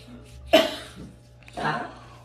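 Two close coughs, the first sharp and abrupt, the second longer and rougher about a second later.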